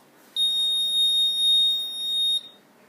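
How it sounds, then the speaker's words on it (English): A single steady high-pitched electronic buzzer tone from an Arduino obstacle sensor on a stick for blind people sounds for about two seconds, loud and close, then cuts off abruptly. "hold it in front of any obstacle, the buzzer will create sound"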